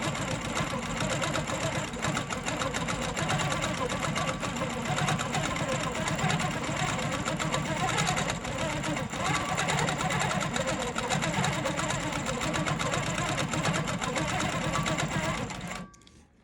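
Longarm quilting machine stitching a tiny stipple pattern, a continuous fast mechanical whir and needle chatter running steadily and close, then cutting off at the end.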